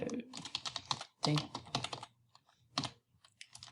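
Quick bursts of typing on a computer keyboard while saving a file, clustered keystrokes in short runs with pauses between, close and clear.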